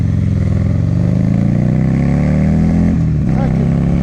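A 2009 Buell XB1200SS motorcycle with a Jardine exhaust accelerates hard in first gear, its loud, close engine note climbing steadily before a brief dip near the end as the next gear engages.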